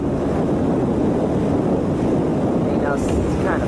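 Strong wind on a windy night in Spain, a constant loud low rumble and buffeting roar against the microphone, steady throughout with a faint higher whine near the end.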